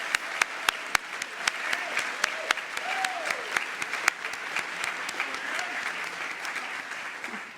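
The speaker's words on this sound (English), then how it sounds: "Give another round of applause." Audience at a college senior assembly applauds steadily, a dense even wash of clapping with sharp individual claps popping out near the front and a few faint voices underneath.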